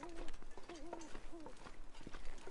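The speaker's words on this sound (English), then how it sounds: "That owl, I thought for a second was a wolf." An owl hoots repeatedly in the video game The Long Dark, soft low calls in short bursts across a faint outdoor background.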